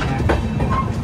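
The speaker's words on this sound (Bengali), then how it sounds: "ট্রেন এসে পৌঁছালো মুরাদাবাদ।" The Kolkata–Jammu Tawi Express pulls into Moradabad station at night with a brief, steady low rumble and faint wheel clatter, heard close from on board.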